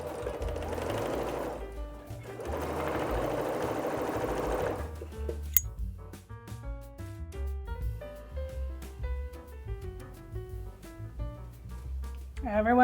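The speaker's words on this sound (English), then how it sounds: "we're gonna sew right down the line at the smallest seam that you think you can manage" A sewing machine runs a quarter-inch seam, with two bursts of fast whirring stitching, a sharp click, and then slower rhythmic needle thumps, close up with no talk.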